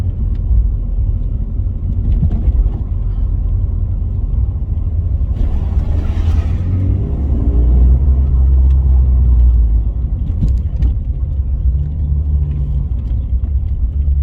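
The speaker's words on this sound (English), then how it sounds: "But yeah, that engine revs nicely." An Alfa Romeo GTV engine rumbles deeply from inside the moving car, a loud steady drone with one rev rise midway that eases back down, while someone talks over it.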